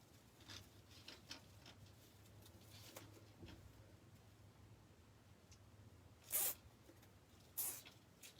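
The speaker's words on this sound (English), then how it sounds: "let's zip tie this in place and get it out of our way." A zip tie is pulled tight on a burlap deco mesh Christmas wreath, producing two short ratcheting zips about a second apart against an otherwise quiet room with faint handling rustle.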